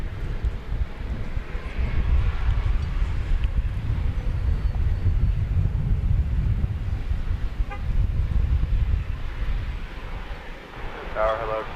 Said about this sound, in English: Now we've got American Airlines with the 777-200ER going to the same airport.